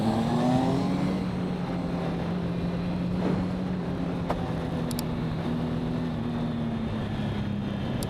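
Triumph Speed Triple 1050 motorcycle engine pulling steadily under throttle, a continuous mid-level drone with a slowly rising and falling tone, heard alone without talk.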